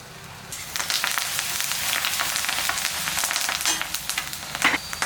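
Minced garlic and curry leaves sizzle in leftover fish-frying oil, a steady dense crackle starting abruptly and continuing close and loud with bursts of spattering, no voices.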